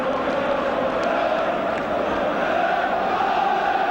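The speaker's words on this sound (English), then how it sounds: "the crowd singing the name of Norman Bell, the Wolves substitute" A large football stadium crowd singing the name of a Wolves substitute in a 1980s match, making a dense, sustained roar of massed voices at a distance with no break.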